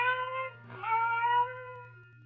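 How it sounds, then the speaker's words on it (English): A lone cat cries faintly in a radio-drama sound effect, a thin wavering wail that swells slightly midway and then trails off over a steady low hum. "Then the silence was broken by the faint crying of one cat."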